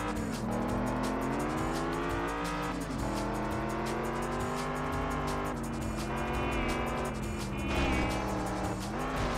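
An Alfa Romeo 4C driven in Test Drive Unlimited: a loud, continuous engine drone that rises and falls through gear changes, with occasional tire squeal and no talking.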